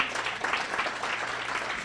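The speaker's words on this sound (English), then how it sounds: "can we give a round of applause for her?" An audience at a marketing meetup in Indianapolis gives a speaker a brief round of applause, a soft, fairly distant patter of many hands with no talking.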